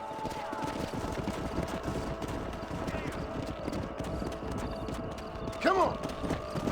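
Horses' hooves clip-clop steadily in the Western video game Red Dead Redemption, with a short whinny near the end and a voice speaking over the herd.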